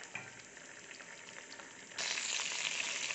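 Urad dal fries in hot coconut oil for an Onam sadya kootu curry, with a low, faint sizzle that turns suddenly louder and brighter about two seconds in and stays steady to the end.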